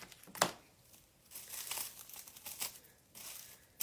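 Thin plastic sheeting crinkles and rustles up close as it is handled and wrapped around a hand during a simple casting session, in soft irregular bursts with no talking.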